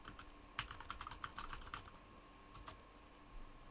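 Commands typed on a computer keyboard during a late-night game session, with quiet rapid clusters of key clicks in short bursts and a brief pause before a final few taps.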